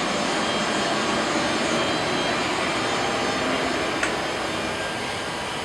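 Generators run beside a parked airplane, keeping it cool, with a steady, even broadband hum and one faint click partway through.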